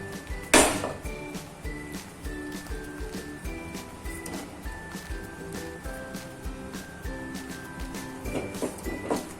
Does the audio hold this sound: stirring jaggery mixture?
yes